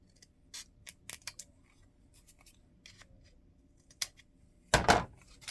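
Scissors snip through paper while a carousel craft is being made. A few quick close cuts come early, then one longer, louder slicing run near the end, with quiet pauses between, and no one speaks.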